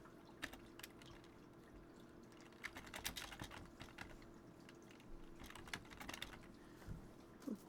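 Keys tapped on a computer keyboard while a folder name is entered in song software, quiet irregular clicks in uneven bursts over a faint steady hum, with no speech.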